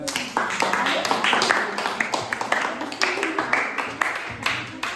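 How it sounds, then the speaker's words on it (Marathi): Scattered clapping from a small audience for a student who finished a puzzle game, sharp uneven claps running alongside a speaking voice. "राजासाठी टाळ्या वाजा एकदा"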